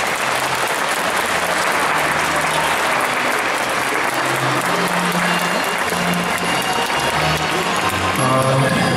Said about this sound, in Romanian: Eu am să vă rog pentru colegii mei un ropot de aplauze